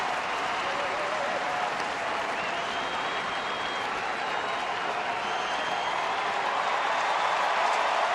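Steady crowd roar and cheering fill a Seattle at Minnesota baseball game, a dense, continuous wash of many voices and clapping that swells slightly toward the end, with no close talking on top.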